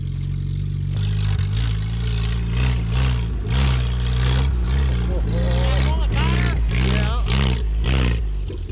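A 1974 Datsun 620 pickup truck engine labors while hauling a load of hay, its low rumble rising and falling through repeated revs and gear changes, loud and close throughout.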